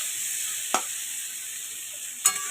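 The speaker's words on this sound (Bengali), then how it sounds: "আলু আর পেঁয়াজ না আমি একসাথে ভাজবো।" Potatoes and onions fry together in hot oil with a steady, even sizzle that never lets up, broken by two brief scraping stirs, with no one talking over it.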